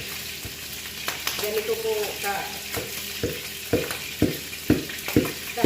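Boiled chicken for Arabic maqluba is half-cooked in a pot, a loud, steady frying sizzle punctuated by regular knocks of stirring, with a brief spoken phrase.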